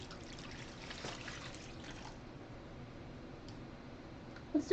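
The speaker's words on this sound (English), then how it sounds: "Here I have 8 cups of water." Water is poured and trickles steadily into a container while yarn is prepared for dyeing, a faint, continuous splashing at close range with a small clink at the end.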